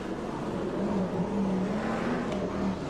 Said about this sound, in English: 383 Dave Johnson heading for victory in this final for the Crystal Trophies.